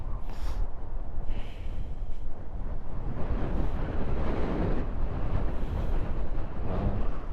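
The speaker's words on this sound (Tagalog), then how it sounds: "Parang tangayin ako ng hangin" Wind roaring over the microphone while riding a Suzuki Raider 150 motorcycle beside Caliraya Lake, a loud, constant buffeting rush with gusty swells and no pauses.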